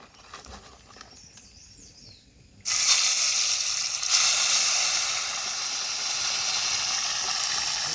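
River fish hitting a hot pan and frying, with a sudden loud burst of hissing sizzle after quiet outdoor ambience, the steady sizzle then carrying on continuously and close.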